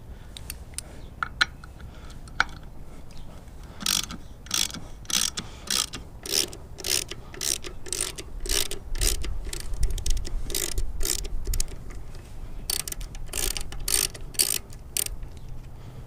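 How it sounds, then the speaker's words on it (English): A hand ratchet works loose the old air filter on a Harley-Davidson motorcycle, with bursts of rapid metallic clicking repeated many times close by, between short pauses. "Let's start taking the old air filter off."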